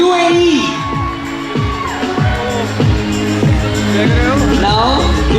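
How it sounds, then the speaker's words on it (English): Students in the audience at a Model UN closing ceremony break into loud cheering and whoops amid a crowd's hubbub, with shouting voices rising and falling over dense applause noise, close and lively. "A huge round of applause for UAE."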